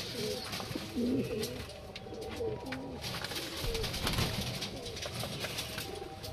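Pigeons perched on a rooftop coo in soft, repeated throaty phrases, several birds overlapping at moderate distance against faint outdoor background noise.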